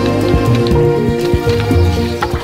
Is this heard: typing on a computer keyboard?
no